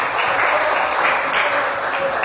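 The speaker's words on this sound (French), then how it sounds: "Acclamons très fort le Seigneur." A church congregation applauds the Lord during a service, a dense burst of clapping from many hands, with voices mixed in.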